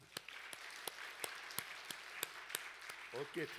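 Sharp hand claps ring out in a steady rhythmic beat through a church service, roughly three per second, with a voice speaking faintly underneath and briefly rising at the end.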